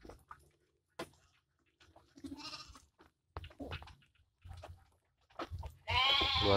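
A goat bleats loudly near the end while being fed guava, after several short, scattered animal sounds and rustling, with quiet gaps between them.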